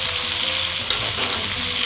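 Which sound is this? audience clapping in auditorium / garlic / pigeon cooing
garlic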